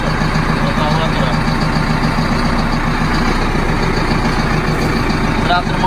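A heavy diesel tractor engine idles steadily with a low, continuous rumble and chugging throb, loud and close throughout.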